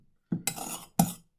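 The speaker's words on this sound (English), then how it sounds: "Go back, scrape out your bowl." Scraper dragging around a mixing bowl to clear out brioche dough, two short scraping strokes with a knock at the start of each, close and fairly loud, no talking.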